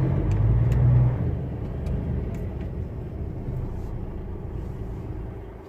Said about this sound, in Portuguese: Essa rotatória que ninguém deixa você entrar e não para de vir carro.